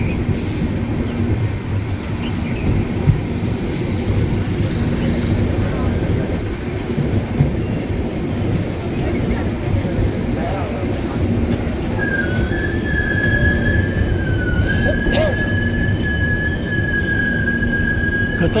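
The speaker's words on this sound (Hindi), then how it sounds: "प्लेटफॉर्म नंबर 1 पर रतनगढ़ जंक्शन पहुंच चुकी है।" Bikaner–Delhi Intercity Express, train 22471, arriving at Ratangarh Junction platform 1: steady rumble of rolling coaches with wheel clatter and a rising metallic squeal of wheels and brakes, voices murmuring faintly underneath.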